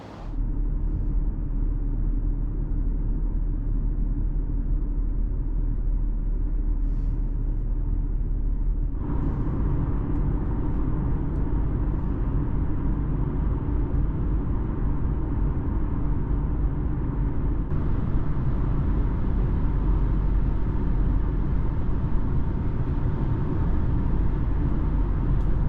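Steady cabin road noise in a 2017 Mercedes E220d diesel on summer tyres and ordinary non-acoustic glass, a continuous low rumble and tyre roar that steps up in loudness as speed rises, with no talking.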